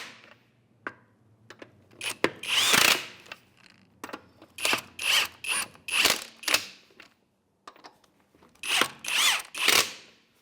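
A power tool drives the wheel lug nuts on a 2011-2016 Hyundai Elantra with a 21 mm socket, in a series of about nine short, loud whirring bursts separated by brief pauses.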